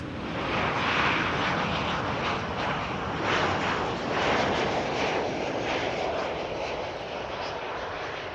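Aircraft arriving at Schiphol airport on a December morning, a broad, steady engine roar heard from a distance outdoors, gently swelling and fading, with faint wind noise and no clear talking.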